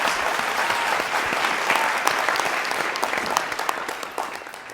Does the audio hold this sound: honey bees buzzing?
no